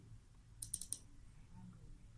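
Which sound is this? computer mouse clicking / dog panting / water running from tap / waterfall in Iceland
computer mouse clicking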